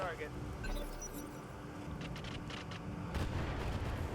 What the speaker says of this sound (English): the turret's just starting to bombard their little guy